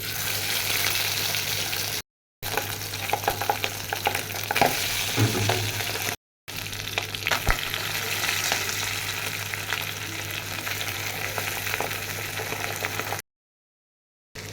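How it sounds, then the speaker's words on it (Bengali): Pabda fish fries in hot mustard oil, a steady loud sizzle and crackle that fills the clip, broken by a few brief silent cuts. "এখন আমি মাছটা ভাজার জন্য দিয়ে দেব সরিষার তেল"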